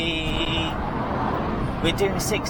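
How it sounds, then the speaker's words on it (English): Steady low road and tyre roar fills the cabin of a small 2007 Smart ForTwo travelling at 60 mph, a constant broadband rumble with a brief higher whine and faint tonal sounds near the end. "You do get quite a bit of road noise though"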